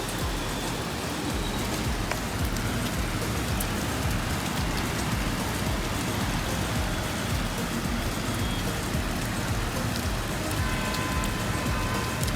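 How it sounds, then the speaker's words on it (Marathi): Steady rain falling in Mumbai, a dense continuous hiss of drops with a low rumble of traffic underneath, moderately loud and unbroken throughout, with no talking. "जास्त पाऊस पडायला पाहिजे मुंबईला"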